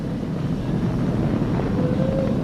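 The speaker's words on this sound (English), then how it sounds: "Flying crew on board Dragon and Falcon 9, and look at them go." Falcon 9 rocket carrying the crewed Dragon capsule on the SpaceX Crew Demo-2 launch: a continuous, heavy, low roar that rumbles steadily throughout, with a faint thin whine rising near the end.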